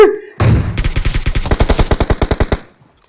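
Automatic gunfire in PUBG Mobile, a loud, close, steady burst of about twenty rapid shots that lasts roughly two seconds and then stops abruptly, with no talk over it.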